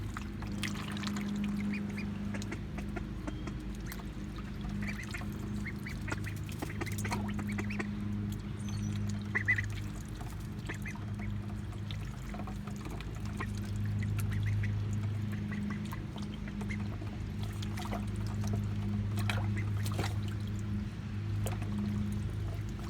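Soft duckling peeps and small quacks over a quiet background of gentle water sloshing and splashing, faint and close.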